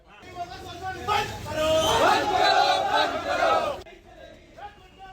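An angry crowd chants protest slogans against the exploitation of Muslims at a tense demonstration in Uttarakhand, loud and massed voices swelling for several seconds before cutting off into a quieter murmur.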